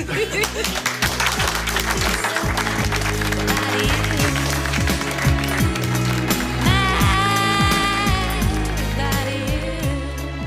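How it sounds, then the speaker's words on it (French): Trainees in a program session applaud harder, a busy wash of clapping under loud thumping music with a strong beat, the music dominating and a sustained tone entering late. "vous pouvez vous applaudir plus fort"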